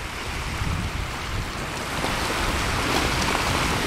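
The Mississippi River rushing past Chouteau Island, a steady, loud broadband roar of moving water heard up close, with wind buffeting the microphone and swelling slightly halfway through.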